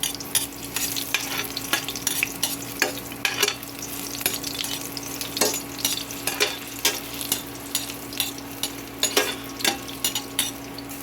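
Ginger sizzles in a hot pan with a steady frying hiss, punctuated by repeated scraping taps of a utensil stirring close by.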